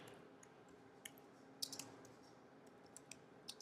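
A few light computer mouse clicks tap faintly and sparsely in a quiet room, with no one talking.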